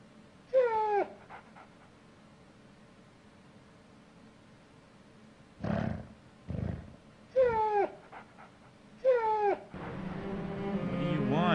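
A dog in the video game Rule of Rose gives a few separate high, wavering whimpers and whines, with gaps of quiet and some brief thumps between them, ending in a steady noisy background hiss.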